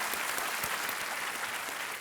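A studio audience at the Kaun Banega Crorepati quiz show applauds steadily throughout, a dense wash of many hands clapping at moderate loudness with no talk over it.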